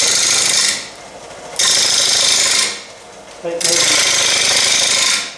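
A wood lathe tool cuts into a natural edge bowl turned from a tree limb, giving loud, rough bursts of cutting noise that stop and start in passes, with a brief spoken word between them.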